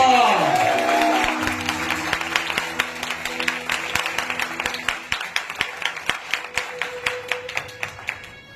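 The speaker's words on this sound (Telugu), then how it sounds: "అందరూ చప్పట్లు కొడుతున్నారు" A church congregation claps in a steady rhythmic beat alongside music with sustained tones, the claps regular and fairly close, fading slightly toward the end.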